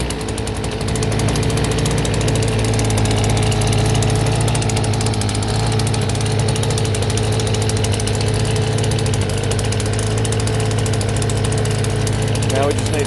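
A Stihl gas leaf blower idles as it warms up after starting, a loud steady engine drone with a constant even hum that holds unchanged from start to finish.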